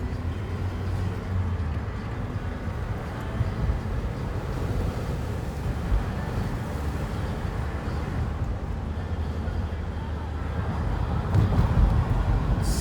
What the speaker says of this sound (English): Whoa, it's so windy. I can hear the wind in the windows.